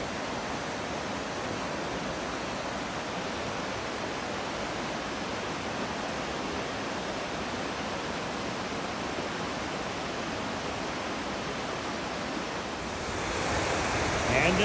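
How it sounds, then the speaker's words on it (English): An unnamed waterfall along the Foothills Trail roars in a dense, unbroken rush of water, loud and steady for the whole stretch and swelling slightly at the end, with no talking. "And another angry rager of the waterfall."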